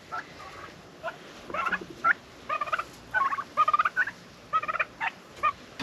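Several turkeys gobble in quick, rattling bursts, some overlapping, at moderate distance with faint outdoor background between calls.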